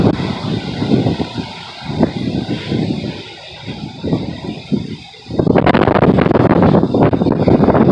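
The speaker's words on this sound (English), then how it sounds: "This wind." Strong wind during a dust storm buffets the microphone in heavy gusts, roaring and rising sharply halfway through into a louder, sustained blast.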